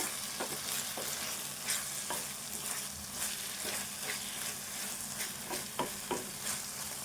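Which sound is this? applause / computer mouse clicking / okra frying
okra frying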